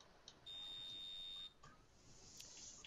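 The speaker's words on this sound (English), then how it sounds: "this silly thing keeps beeping at me" A small electronic device gives a thin high beep that holds for about a second, followed by a fainter chirp. The sound is quiet in an otherwise still room.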